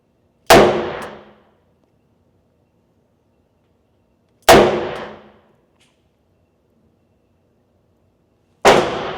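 A Smith & Wesson 637 revolver fires three sharp, loud shots spaced about four seconds apart, each a hard crack followed by a brief decaying echo in an otherwise quiet setting.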